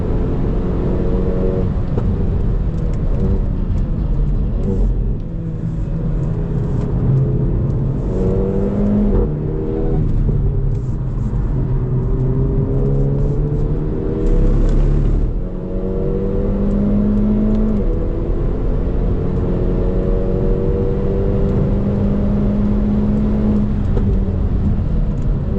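A Hyundai i30 N revs hard in second gear on a race track, its engine note climbing repeatedly through high revs with brief dips between pulls, loud and sustained throughout without any voices.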